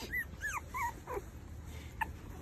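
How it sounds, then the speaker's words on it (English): Puppies whimpering and yipping from underneath a couch, a series of thin, high, rising whines in quick succession with one short yip near the end, close and fairly quiet over a low background hum. "I've got a couple puppies that keep getting lost underneath"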